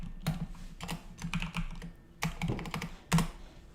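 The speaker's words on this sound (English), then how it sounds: "I'll type it in chat for you, Pascal." Computer keyboard typing during a livestream Q&A, three short bursts of quick keystrokes separated by brief pauses, close and moderately quiet, with no one talking.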